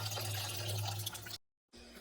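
Water being poured into a glass jar to cover and soak food, a steady splashing fill that cuts out briefly into silence and then resumes more quietly.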